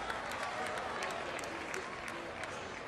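Crowd noise at Steinbrenner Field during a spring training baseball game between the Twins and Yankees: a steady, fairly distant wash of cheering and clapping with scattered sharper claps, holding level throughout.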